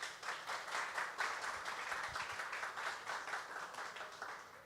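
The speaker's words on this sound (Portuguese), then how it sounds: "Salve de palmas para o Toninho" An audience at a literary festival applauds a poet, giving a brief, moderate burst of clapping from a small crowd that fades out after a few seconds.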